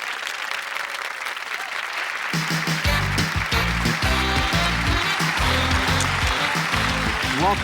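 Game-show studio audience applause during a bonus round, a broad wash of clapping that is soon joined by loud, punchy theme music with a deep stepped bass line that carries over the hands to the end.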